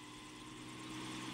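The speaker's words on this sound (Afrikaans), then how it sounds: "dis 'n helikopter, Heksie, nie 'n meeliepomp" Cartoon helicopter flying overhead in a children's animated show, a steady droning rotor and engine hum, faint and continuous with no voices.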